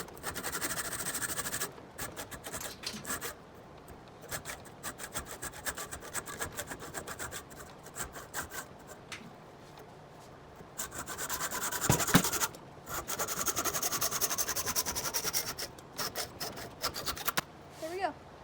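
A piece of wood is sawn by hand to make a lever handle for a John Deere 317 throttle, giving repeated rasping strokes in uneven bursts with short pauses, fairly close and moderately quiet.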